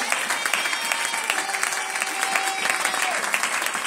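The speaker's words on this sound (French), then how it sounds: "On acclame le Seigneur Jésus." A church congregation applauds and acclaims together, continuous dense clapping with raised voices and cheering mixed in, fairly close and sustained throughout.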